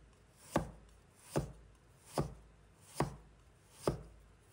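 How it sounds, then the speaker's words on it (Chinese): A kitchen knife slicing unpeeled fresh ginger into thin slices on a chopping board, five crisp, evenly spaced chops close by and alone. "切成薄片时刀要稳，尽量均匀些"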